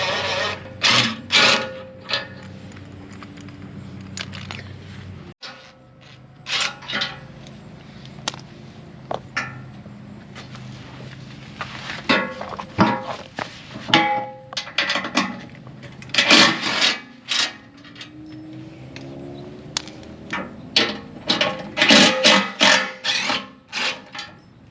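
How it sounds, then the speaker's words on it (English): Socket wrench working out the four factory skid plate bolts with a 15 mm socket, a steady run of close, loud rasping ratchet clicks in bursts with brief pauses, no voices. "We'll use the 15 millimeter socket to remove the 4 factory bolts."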